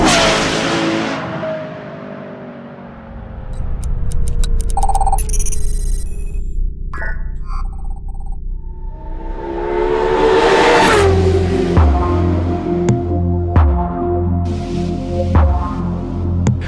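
A Ferrari LaFerrari's engine revs loudly and close, swelling through repeated throttle blips and a rising roar, with electronic chimes and musical hits briefly cutting in between.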